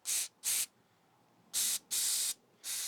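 Aerosol carburetor cleaner sprayed in four or five loud hissing bursts through the venturi tube of a Honda GC160/GC190 carburetor during a rebuild, each blast under a second long with short quiet gaps between.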